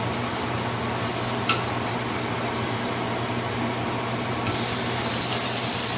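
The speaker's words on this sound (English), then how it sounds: "I'm going to flip it over and let it sear for another minute on that side" Filet mignon steak searing in a hot pan, a steady broadband sizzle running continuously with small shifts in intensity and one brief clink partway through.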